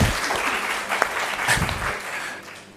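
Applause from a university audience at an academic labour economics meeting, dense clapping filling the room and fading slightly toward the end.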